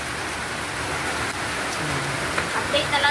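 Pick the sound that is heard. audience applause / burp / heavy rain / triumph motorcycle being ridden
heavy rain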